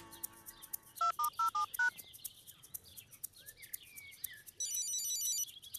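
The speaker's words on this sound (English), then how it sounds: "I'll ring her on my new mobile phone." Cartoon mobile phone being dialed: a short run of electronic keypad beeps, followed after a pause by a high chirpy ringtone trilling nearby, with faint background sounds throughout.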